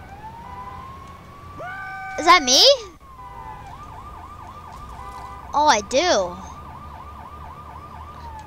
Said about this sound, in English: So why does my siren sound like a police officer?